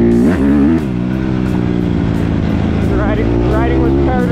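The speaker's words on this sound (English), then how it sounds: "I'm starting the video off with some wheelies." A dirt bike revving hard during wheelies, a loud, close engine that rises and falls in pitch with throttle blips and drones steadily in between.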